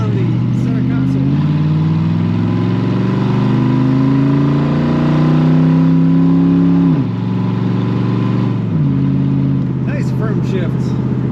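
A 1973 Chevrolet Corvette C3 coupe with an automatic transmission accelerates hard and loud from close by, its engine note climbing steadily and then dropping sharply at two distinct gear shifts before rising again.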